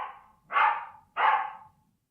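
A Pembroke Welsh Corgi gives two short, sharp barks, evenly spaced and fairly close, with silence around them.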